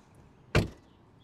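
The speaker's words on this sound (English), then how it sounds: "Door close noise." The door of a 2023 Maserati Grecale Trofeo SUV shuts with a single deep, solid thud, close and alone against a quiet background.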